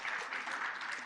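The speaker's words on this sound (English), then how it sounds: "You deserve a big round of applause for yourself for being here." Applause from a conference audience at a plenary session, a soft, distant-sounding wash of many hands clapping in a large room, brief and steady.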